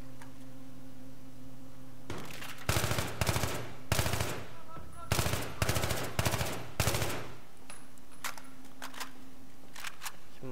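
Heavy machine gun fire from Battlefield 3 rips out in several rapid, loud bursts of closely spaced shots, separated by short pauses, over a quiet game ambience hum.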